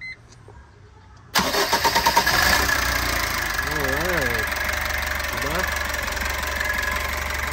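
A stock Foton Traveller van engine cranks over after a stretch of near silence, catches, and settles into a loud steady diesel idle close by, with someone talking over the running engine.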